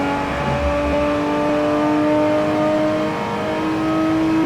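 A Nissan Skyline R34 GTR in the original Forza Horizon racing game gives a loud, sustained engine drone at a fairly steady pitch, with a brief low rumble at the start.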